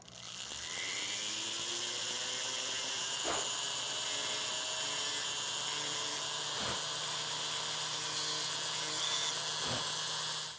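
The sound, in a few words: rotary tool grinding 3D-printed lightsaber part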